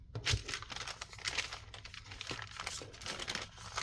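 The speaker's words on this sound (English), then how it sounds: "all you're going to do is fold it in thirds" Paper being folded into thirds for a junk journal, crisp crinkling and rustling in a run of short bursts, close up, with no talk.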